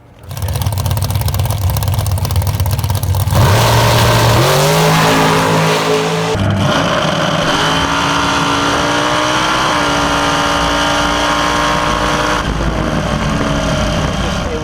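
A car engine fitted with a new Holley Sniper Stealth 4500 EFI throttle body runs loud and close, idling with a deep rumble before revving up in stepped rises and settling into a steady higher drone.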